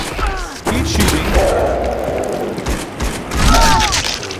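Rapid gunfire in a survival video game sounds as dense, booming volleys that keep rolling steadily for several seconds, with someone speaking briefly over the start and the end.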